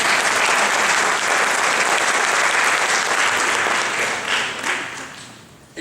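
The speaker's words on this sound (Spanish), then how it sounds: "Un aplauso para ustedes." An audience at a talk marking the University of Salamanca's 800th anniversary breaks into dense, steady applause. It stays loud and continuous, then thins and tapers off near the end.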